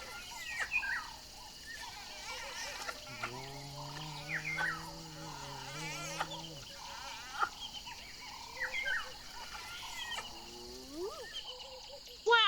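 Baby hyenas whining and squealing, a series of faint high-pitched whines and rising squeals, one longer drawn-out whine in the middle, against a quiet background.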